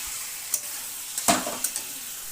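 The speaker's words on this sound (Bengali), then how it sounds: "এবার দিয়ে দিলাম মাংসগুলো, দিয়ে নেড়ে চেড়ে নিলাম ওপর নিচ করে" Marinated chicken pieces tossed and stirred in a frying pan, a faint steady sizzle punctuated by a few quick scrapes and one stronger clattering turn of the meat, close but quiet, no talking.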